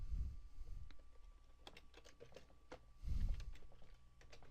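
Keys tapped on a computer keyboard while a photo caption is entered in slideshow software, a run of scattered light clicks close by over a low background murmur, quiet and irregular.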